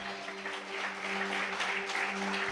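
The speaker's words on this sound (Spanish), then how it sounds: "Dale fuerte ese aplauso al Señor." A church congregation claps during a sermon, producing a steady wash of applause over a constant low electrical hum from the sound system.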